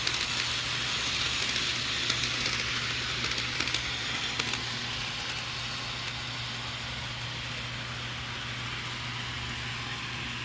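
An HO scale Rapido CN FP9A model diesel locomotive with DCC sound runs steadily, giving a constant engine hum and hiss at a moderate level, slightly busier in the first few seconds, then even.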